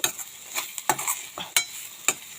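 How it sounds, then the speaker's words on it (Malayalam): Pineapple pieces are stirred into heated grated coconut in a pan, giving close scraping strokes of a spoon against the metal with a light sizzle, in irregular bursts and without speech. "നമ്മുടെ കൈതച്ചക്ക ഇട്ട് കൊടുക്കാം"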